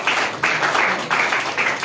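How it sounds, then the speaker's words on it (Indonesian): Applause from a church congregation, steady broadband clapping in two or three surges that swell and dip across the short stretch, fairly close and full. "Tepuk tangan bagi Tuhan."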